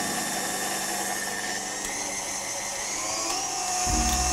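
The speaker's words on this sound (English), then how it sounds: "That's going to go straight into a mixer." An electric stand mixer runs steadily, creaming butter with golden caster sugar, a continuous whirring motor hum that rises and thickens near the end as the load changes.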